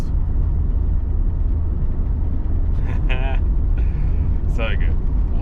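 Steady low rumble of a Ford Falcon XE's engine and road noise from inside the cabin while driving, loud and continuous, with a few brief voice-like bursts partway through.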